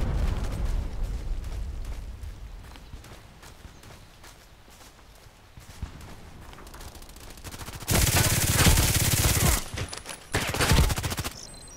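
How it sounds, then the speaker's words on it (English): Rapid video-game gunfire crackles through a firefight, then a loud, sustained grenade blast erupts near the end, followed by more shots; no one speaks. "Grenade."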